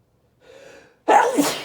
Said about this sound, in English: I'm gonna sneeze again, I think.